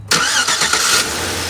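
A vehicle engine cranks over in a quick, loud burst of churning turns, heard up close with no talking.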